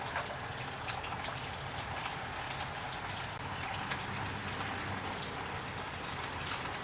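Engine coolant from a 2000 Chrysler 300M drains into a catch pan as a steady, continuous splashing trickle. It is moderately close and unbroken throughout, with no talk.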